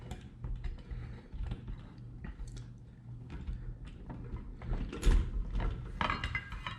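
Small metal clicks and ratcheting scrapes come from a nut being turned by hand on a pendant light fixture during installation, close and fairly faint, in short irregular bursts.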